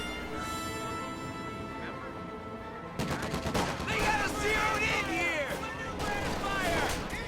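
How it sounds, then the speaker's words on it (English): Battle sounds from a WWII strategy video game: scattered gunshots and bursts of gunfire with heavier artillery thumps, busy and continuous after a quieter opening. "Looks like more major artillery got called in for some reason."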